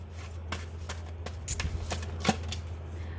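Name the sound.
shuffling and drawing tarot cards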